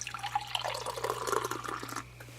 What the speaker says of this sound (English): Let's pour it in a glass.